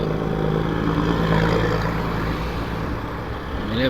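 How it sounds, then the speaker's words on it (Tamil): Steady, loud engine drone with a low rumbling hum that holds constant throughout, like a lorry straining under a heavy load on the road. "பாவங்க அந்த லாரி இன்ஜின்னு அவ்வளோ லோடு இழுத்துக்க போகுது"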